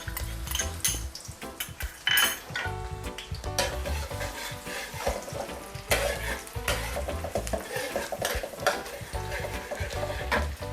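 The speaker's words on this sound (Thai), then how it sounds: "น้ำมันร้อนแล้วค่ะ ใส่กระเทียมลงไปเลย" Garlic drops into hot oil in a pan that was just used to fry tofu, giving a loud, dense sizzle close up, with clattering utensils and stirring throughout.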